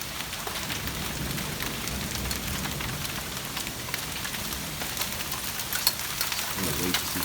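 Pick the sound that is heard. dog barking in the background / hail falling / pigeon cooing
hail falling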